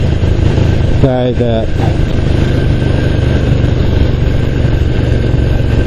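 A 1974 Ducati 750 GT motorcycle engine runs steadily and loudly throughout, with a brief spoken phrase near the start over the constant mechanical drone.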